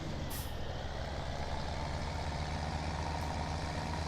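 A farm vehicle engine in Farming Simulator 17 runs at a steady, low, droning idle, faint and continuous with no voices.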